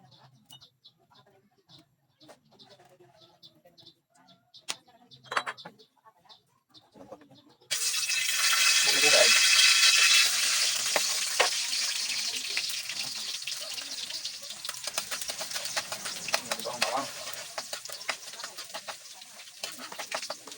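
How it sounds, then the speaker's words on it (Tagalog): Garlic and onion sautéing in a pan give a loud, steady sizzle that bursts in suddenly and holds, crackling on, after a quiet stretch of faint background sounds. "so igisa na natin yung bawang, sibuyas"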